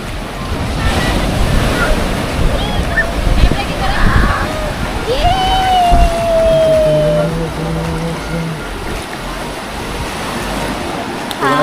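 Sea waves roll onto Radhanagar beach on Havelock Island, a steady loud wash of surf with wind buffeting the microphone throughout, while a tonal whine briefly rises and fades in the middle.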